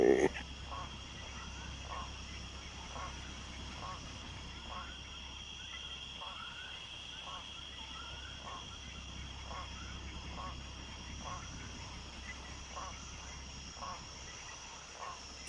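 Frogs croak in a steady, evenly spaced series over a constant droning ambient bed in the Jurassic Park: Operation Genesis game, the calls moderately near and repeating throughout.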